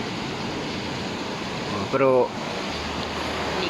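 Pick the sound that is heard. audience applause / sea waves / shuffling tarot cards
sea waves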